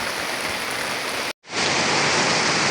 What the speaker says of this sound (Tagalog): Ayan po, grabe po ang ulan.